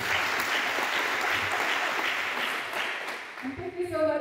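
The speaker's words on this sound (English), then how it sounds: "Another clap for Dr. Tari." Audience clapping at a Nakuru business pitch competition final, a steady wash of applause for several seconds that thins out toward the end as a voice begins speaking over it.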